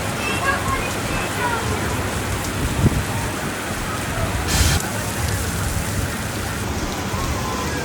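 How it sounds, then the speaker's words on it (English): Heavy rain pours down steadily at the Six Flags Fiesta Texas amusement park, a dense hiss of drops with a couple of brief louder bumps in the middle. "the rain finally caught up with us. It is pouring right now."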